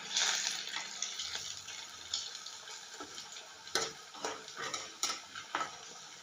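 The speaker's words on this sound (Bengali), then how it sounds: "ছাড়ার সাথে সাথে কী সুন্দর ভাজাটা হচ্ছে" Food frying in a wok, a steady bright sizzle running throughout with a few sharper crackles and spatters toward the end, close and fairly loud with no talking.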